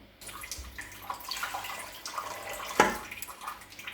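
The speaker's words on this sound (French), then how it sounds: "Je vais en rajouter un petit peu, je fais en sorte que l'eau dépasse d'1 centimètre environ" Water poured into a cooking pot to cover its contents by about a centimetre, a soft, close splashing trickle that swells and fades in uneven waves, with a brief clink midway.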